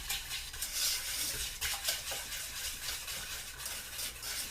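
Baking soda being stirred into hot caramel in a pot, a steady scraping and bubbling swirl that stays close and even throughout, with faint clinks of utensil against metal and no talking.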